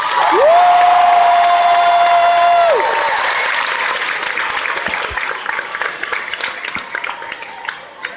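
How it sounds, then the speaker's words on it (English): Audience applause fills a school pep assembly as an award student is honoured, a dense burst of clapping that follows a brief whistling tone, then gradually thins out and fades. "Give her one more round of applause."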